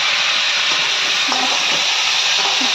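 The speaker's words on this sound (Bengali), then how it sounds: "এখানে দেখো সজনের ডাঁটাগুলা ছেড়ে দিচ্ছি তেলের মধ্যে" Drumstick stalks hiss and crackle in hot oil, a constant loud sizzle with faint clinks of utensils mixed in.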